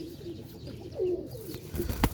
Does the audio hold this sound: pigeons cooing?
yes